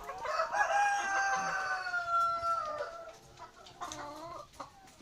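Hens inside a chicken coop, with drawn-out clucking and cackling calls and a rooster crowing nearby, followed by softer scattered clucks as the calls fade.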